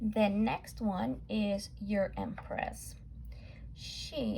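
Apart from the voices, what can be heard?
No everyday noise stands out behind the speech.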